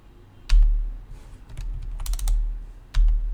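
Keys tapped on a computer keyboard while entering a packet number in Wireshark: a few close, crisp clicks in an uneven rhythm, with short pauses between presses.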